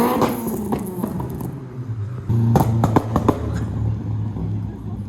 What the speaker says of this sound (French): Là il y a une voiture qui arrive qui est très drôle.